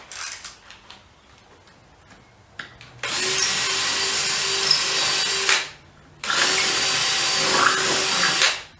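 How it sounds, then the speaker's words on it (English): Power drill boring a pilot hole with a 9/64 bit into wood while building a shop dolly or saw cart, two loud sustained whirring bursts of about two and a half seconds each after a few quiet clicks, with no talk. "I'm going to use a 9/64 bit as a pilot hole"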